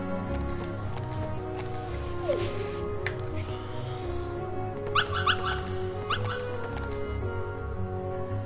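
Dalmatian puppy yips and barks in a PS4 game, short bright bursts clustered around the middle of the stretch over steady game music and ambience, moderately loud, with whimpering yelps.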